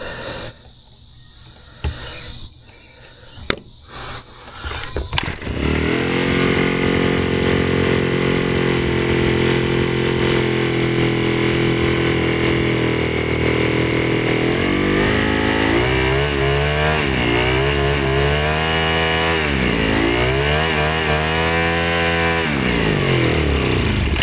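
Ryobi S430 4-cycle string trimmer engine, left on half choke, sputters a few times, then catches and runs loud and steady near the mic before revving unevenly, surging and dipping as it struggles to stay running.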